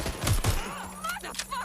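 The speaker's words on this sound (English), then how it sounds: "You're shooting!" A couple of sharp gunshots in Watch Dogs Legion crack out close and loud near the start, then fall away into quieter game sound with some voice.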